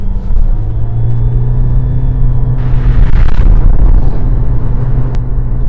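Toyota Aqua (Prius C) hybrid, a 99 horsepower car, accelerating hard from a standstill after a brake boost: a steady low engine drone that swells into a louder roaring surge midway, heard from inside the cabin without talking.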